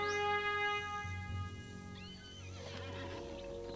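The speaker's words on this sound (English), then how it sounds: "let me get on my war steed, because it looks like it's going to be quite a ride" A war steed in the LOTRO video game whinnies loudly and close, followed by a steady clip-clop of hooves that continues as the mount sets off along a road.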